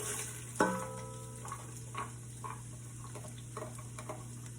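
Chopped onion and celery frying in butter for Creole shrimp, a soft continuous sizzle under a steady hum, opened by a sharp metallic clink and followed by light scattered stirring taps.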